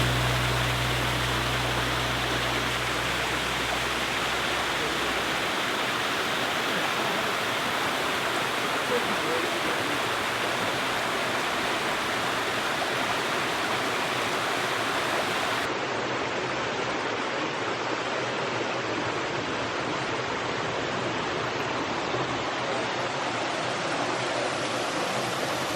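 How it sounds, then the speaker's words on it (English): Steady, loud roar of Trillium Falls, a waterfall in a redwood forest, a continuous broadband rush heard up close, with no pauses or voices. "Redwood waterfall."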